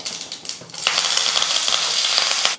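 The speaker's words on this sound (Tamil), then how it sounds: "இப்போ நம்ம சட்னி வந்து தாளிச்சிக்கலாம். கடுகு, ஒரு 4 உளுத்தம்பருப்பு, கருவேப்பிலை கொஞ்சம்." Mustard seeds, urad dal and curry leaves hit hot oil as a tempering for pirandai chutney, giving a loud, steady crackling sizzle with dense popping that runs for over two seconds and then cuts off.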